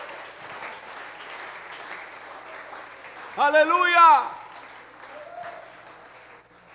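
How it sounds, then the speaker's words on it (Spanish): A church congregation bursts into a short round of applause with cheering voices after a sermon line, loud and close, rising and fading within about a second while a preacher talks before and after. "Denle un aplauso a esa palabra que está aquí en esta noche"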